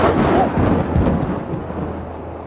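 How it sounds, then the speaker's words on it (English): Loud rolling rumble of a thunder sound effect in a weather-themed puppet show, starting strong and slowly fading over a couple of seconds with no speech. "when he struck that hammer, thunder would roar"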